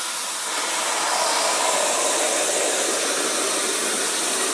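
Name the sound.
spraying Krown rustproofing oil into car door cavity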